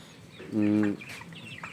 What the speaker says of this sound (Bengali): এই যে এরা খাচ্ছে, মুরগি সুস্থ আছে।